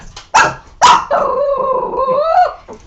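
A female dog lets out two sharp close barks, then a long rising and falling growl, loud and with no talk over it.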